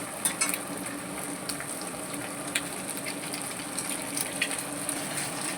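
An egg frying in a pan with chicken masala gives a steady close sizzle and crackle, with a few light scrapes and taps of stirring on top.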